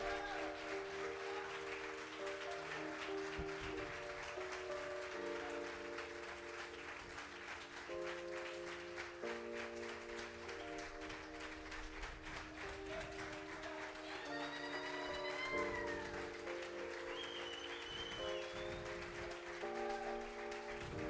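A church congregation at a family worship service applauds in steady sustained clapping under organ or keyboard chords, moderately distant and filling the room throughout.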